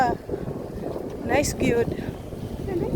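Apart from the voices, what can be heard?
wind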